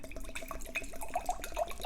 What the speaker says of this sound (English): And then we take our stemless wine glass and we pour.